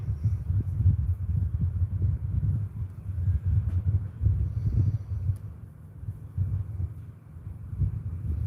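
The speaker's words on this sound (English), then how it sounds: "Will the wind ever stop?" Wind gusting outside a kitchen window, a low rumbling buffet that swells and fades unevenly, fairly loud and muffled, with no voices.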